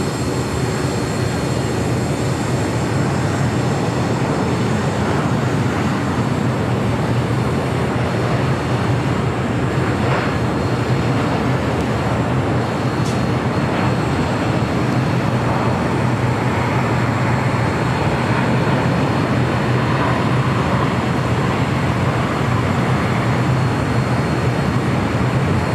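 A jet airliner taking off from runway 25 right at LAX gives a loud, steady broadband engine roar that holds for the whole stretch, dense and continuous, with no voices over it.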